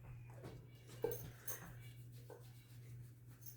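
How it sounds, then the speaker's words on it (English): A pet puppy whimpers faintly a few times close by, soft whines over a steady low hum from a home kitchen. "Sorry, my pup's down here."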